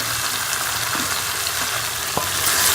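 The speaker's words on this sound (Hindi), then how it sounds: "ये जो दही है मैं इसको अच्छी तरह से भून लूँगी।" Yogurt and chicken karahi masala frying in a pan, a loud continuous sizzle with occasional stirring clinks and scrapes, no voices.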